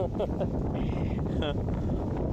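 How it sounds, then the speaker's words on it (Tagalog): Strong wind roars steadily and loudly across the microphone outdoors, heavy broadband buffeting with no break, while voices talk underneath. "Lakas po talaga hangin."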